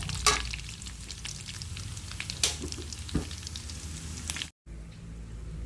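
Pork for humba fries in its own rendered fat, giving a soft, steady crackle with a few sharp pops and spoon clicks, then cutting out briefly before the sizzle resumes.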